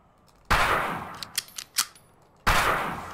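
Two sharp, loud gunshots with reverberant tails in the hunting game Dread X Collection, about two seconds apart, with light clicks and clanks between them.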